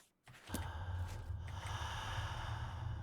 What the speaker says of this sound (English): Why does it sound like someone's breathing?